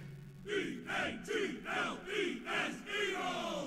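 A crowd at a live event cheers in unison, building into a loud, rhythmic chant of about six pulsing shouts that fills the space.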